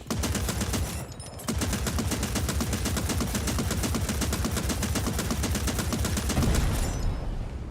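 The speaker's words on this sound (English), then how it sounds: "enter the AA gun and shoot down the enemy chopper" Anti-aircraft gun firing in Hell Let Loose Vietnam, a loud sustained stream of rapid shots with a short break near the start, then continuous hammering fire.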